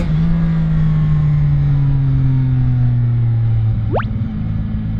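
A loud, close CFMOTO 675NK motorcycle engine drones with a deep intake roar, its pitch slowly falling, then a quick rev sweeps upward near the end.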